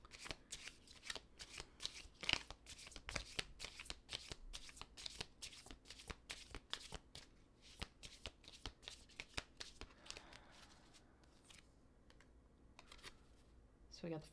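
Tarot cards shuffled and drawn in rapid, crisp riffling bursts that run almost continuously, close and fairly loud, easing into softer handling of the deck toward the end.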